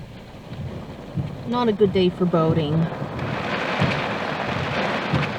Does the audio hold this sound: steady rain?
yes